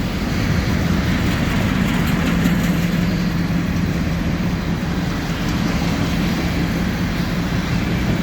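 Two trains meet on the Dundas Sub near London, Ontario, in February, and a broad, steady rumble of rolling rail cars holds evenly throughout with no voices.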